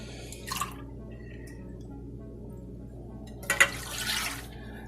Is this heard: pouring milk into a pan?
yes